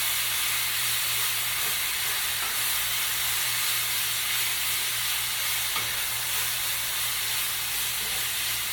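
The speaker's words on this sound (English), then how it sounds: "I'm cooking down my steak on high heat" Flank steak, marinated overnight, sizzling in a hot cast iron pot on high heat, a steady broad hiss of frying that carries on evenly throughout with no talk over it.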